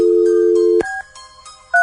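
A telephone dials out to place a call, a steady dial tone cut off by a few short keypad tone beeps, close and loud with no talking.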